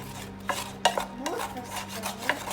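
Minced garlic is stirred into sautéing onions in beef drippings in a pan, giving scraping utensil strokes and a few knocks over a low background sizzle, close with uneven rhythm and no talk.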